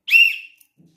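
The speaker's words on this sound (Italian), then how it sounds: "Fischiamo la fine del primo tempo." A single sharp referee's whistle blast marks the end of the first half of a football match, loud and close, lasting about half a second before fading into silence.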